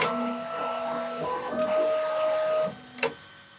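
Bambu Lab X1 Carbon 3D printer moving during setup: close whirring stepper motors whine in shifting pitched tones, stop abruptly, then a short clack follows, with no voices.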